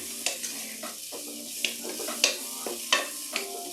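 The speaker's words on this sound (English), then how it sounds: "Nice sauteing." Beef stroganoff ingredients saute in a hot pan with a constant sizzle, punctuated by several sharp stirring scrapes and clacks spaced about half a second to a second apart, close up and without talk.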